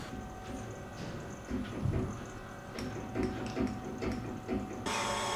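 A professional sharpening machine running with water flowing, a steady mechanical whir with scattered knocks and scrapes up close, ending in a louder broadband hiss as the water or grinding picks up; no talk.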